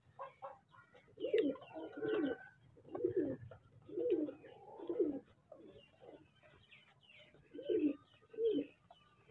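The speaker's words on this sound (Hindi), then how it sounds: "चिट्टा टोटना कबूतर है।" Fighter pigeons offered for sale coo in a series of soft, rounded, repeated calls, several bursts spaced a second or two apart, close by and fairly quiet against a faint background hum.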